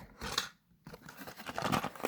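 Scissors snip through plastic merchandise packaging, two quick bursts of close cutting and rustling separated by a brief pause, no talking.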